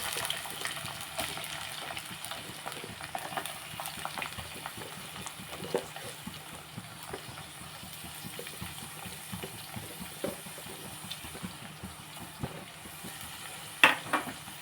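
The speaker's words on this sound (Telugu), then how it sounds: "ఆయిల్ పోసాను ఆయిల్ హీట్ ఎక్కింది మనం ఇందులో ఇప్పుడు పచ్చిమిర్చి ఉల్లిపాయలు వేసుకున్నాం" Green chilies and onions frying in hot oil in a pan for a brinjal and drumstick curry, a continuous close crackling sizzle with faint occasional stirring clicks, steady and moderately loud, no talking.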